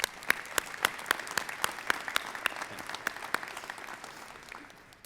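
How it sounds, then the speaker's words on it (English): Applause from an audience at a university academic honors convocation, a modest spread of distinct claps ringing out at moderate distance for several seconds. "Let's give these individuals a round of applause as well."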